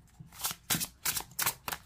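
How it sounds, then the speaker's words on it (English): Tarot cards being shuffled by hand, giving four quick riffling bursts in a steady rhythm, close and fairly soft. "Let me just give the cards a shuffle to see how they shuffle."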